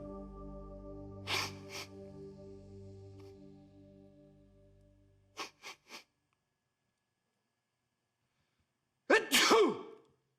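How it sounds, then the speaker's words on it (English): A man's sudden sneeze after taking snuff, a short burst of explosive breath and spray after a quiet stretch, preceded by sniffing and a whirring machine hum that cuts off. "Or a sneeze."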